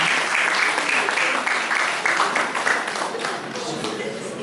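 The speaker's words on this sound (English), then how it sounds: "Another round of applause for all of them" Sustained audience applause for participants at a paediatric society event in Ghana, a dense continuous wash of clapping that thins slightly toward the end, with a voice faintly over it.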